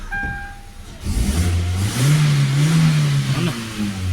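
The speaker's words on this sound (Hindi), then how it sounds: "गाड़ी स्टार्ट भी हो गया अपना" A Hyundai Verna's engine, already started and with a check-engine fault, idles with a steady low hum after a brief bump, its note rising slightly in a mild rev near the end; close and continuous with no talking.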